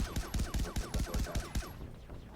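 Handgun fitted with a huge silencer firing in the video game Far Cry 3 Blood Dragon: a rapid, evenly spaced string of about ten loud, close shots, then the noise fades into quiet.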